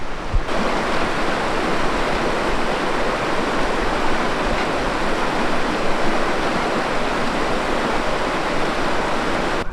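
Ochre Creek rushing beneath a trail bridge on the Rockwall Trail, a steady, loud broadband roar of flowing water that holds constant for the whole stretch with no voices.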